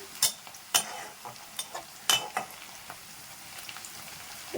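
Green chilies frying in hot oil in a home kitchen, a soft continuous sizzle punctuated by several sharp spatters and pops, fairly close and with no talking.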